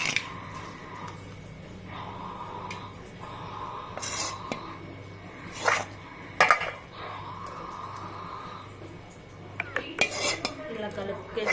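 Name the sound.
mixing fried chicken in a pan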